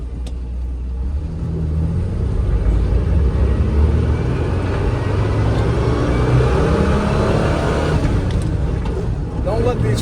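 A 1984 Ford Bronco II trail rig with 4.56 gears rolls slowly through a neighborhood, its engine a steady low rumble heard from inside the cab, with road noise throughout.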